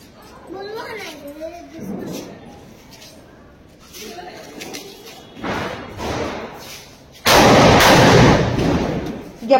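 A Diwali firecracker explodes in a long, loud crackling burst near the end, with softer thumps before it. Children and adults talk excitedly throughout.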